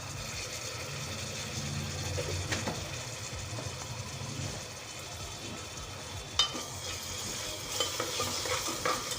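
Ginger garlic paste and turmeric fry in a pan, stirred steadily for a tomato bath breakfast; a continuous close sizzle runs under scraping stirs, with a sharp utensil clink partway through and no talking.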